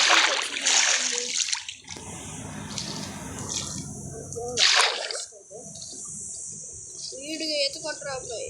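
Splashing and watery swimming sounds in the game Minecraft, bursts of splashes and bubbling with a person talking over them at intervals.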